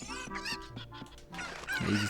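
Cuccos, the chickens of the video game Ocarina of Time, squawking and clucking in a quick string of sharp, honking calls, close and fairly loud, with a denser flurry near the end.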